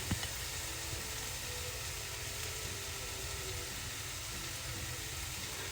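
Onions sauté in a pan with a loud, continuous broadband sizzle that holds steady throughout and has no talk over it.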